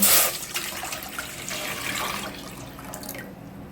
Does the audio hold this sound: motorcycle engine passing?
no